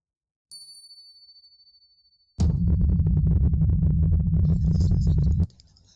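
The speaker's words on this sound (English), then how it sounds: "ring a brass bell, knock once on wood." A brass bell rings in a horror video game ritual, a bright sustained tone that fades, followed by a loud, dense rumbling stretch of game sound lasting several seconds.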